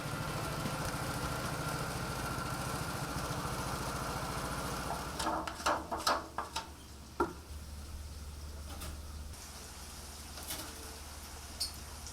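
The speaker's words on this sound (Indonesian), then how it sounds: "mereka menggunakan mesin untuk lebih cepat memproses pembuatan sambal masak ini" A chili grinding machine's steady motor drones loudly and continuously, with a few sharp clanks and knocks partway through before the machine hum settles on.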